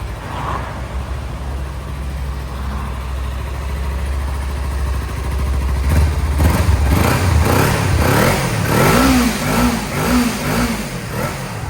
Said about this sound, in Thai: เดี๋ยวฟังคลิปเสียงกันนะครับ เครื่องเดิมเงียบๆนะครับ